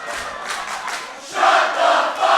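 Wrestling crowd in an arena shouting at a wrestler, a loud roaring chorus of jeers that swells louder midway and stays heavy, with no talk over it.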